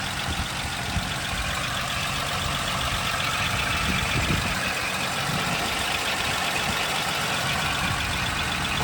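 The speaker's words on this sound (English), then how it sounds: "Beautiful running flathead 6." A 1937 Nash Lafayette 400 with a flathead six-cylinder engine idles smoothly and evenly at close range, a steady low mechanical hum with no voices over it.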